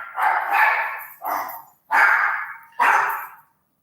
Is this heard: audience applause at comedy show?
no